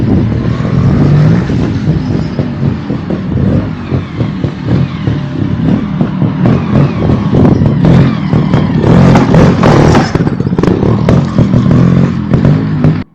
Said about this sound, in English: What I'm trying to do is a double blip.